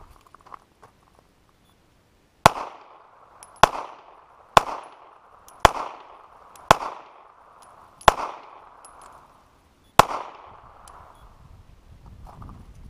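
A handgun is fired at an outdoor gun range: seven sharp, loud shots come one at a time at uneven intervals, each followed by a short echo, with no talking.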